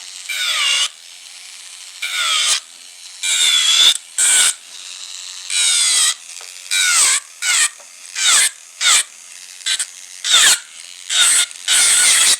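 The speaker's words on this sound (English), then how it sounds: "I have the e-file running clockwise forward." An electric nail file spinning forward, clockwise, buzzes in short bursts of whirring as it touches and lifts off the nail, about a dozen pulses at an uneven rhythm, close and fairly loud.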